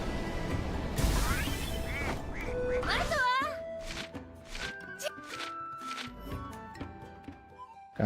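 A cartoonish duck quacks in Gravity Rush 2, a few rising squeaky calls amid game music and effects, with voices talking over parts of it.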